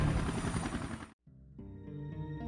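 A helicopter in the video game Resident Evil Revelations 2 gives a dense, low rotor thrum for about a second, then cuts out abruptly, and a quieter tonal game sound follows.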